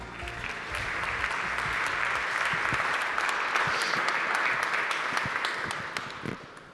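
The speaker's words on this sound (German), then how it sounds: "Aber jetzt gibt es Applaus für Magister Wilfried Weitgasser." A seated audience at a talk claps to welcome a speaker, a steady full round of applause that swells gently, holds for several seconds and fades at the end.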